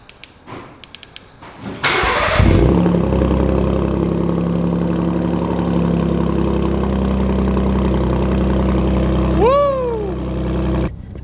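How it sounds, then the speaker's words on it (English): A Ford Raptor truck engine cranks briefly on a cold start and fires up, settling into a loud, steady idle with a low rumble; a short chirp sounds near the end. "But first, we got to get a cold start."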